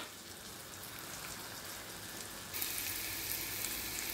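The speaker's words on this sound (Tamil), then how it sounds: "வெங்காயம் நல்லாவே கொஞ்சம் கிளாஸ் பதத்துக்கு வேகட்டும்." Onions frying in a pan for a gravy side dish, a steady, even sizzle with a broad hiss throughout that grows brighter and louder about halfway through, with no talking.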